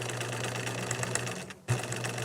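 A sewing machine stitches fabric at a steady speed, giving a close, even mechanical hum with rhythmic whirring, then pauses briefly before starting to run again.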